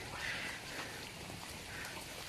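Rain falls steadily outdoors on a road, a soft, continuous hiss with a faint patter and no clear voices.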